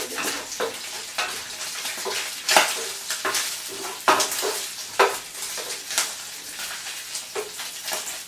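Steady sizzling of paella ingredients browning in a pan, with clinks and scrapes of stirring and a few louder utensil knocks against the pan.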